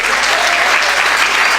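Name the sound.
loud applause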